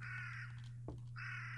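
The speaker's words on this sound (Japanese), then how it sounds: "カラスの音がリアル。" A crow caws in the horror video game Girls Killer, two drawn-out harsh calls separated by a short pause. The calls are clear and stand alone over a steady low background hum.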